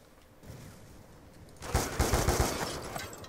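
Call of Duty Black Ops 2 gunfire: a soft rush builds, then a rapid close burst of several sharp automatic shots with rumbling noise continuing after.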